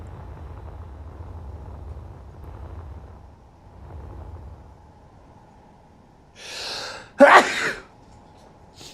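A person sneezes once near the end, after a quiet stretch with a low background hum: a short breathy intake, then one sharp, loud, close burst.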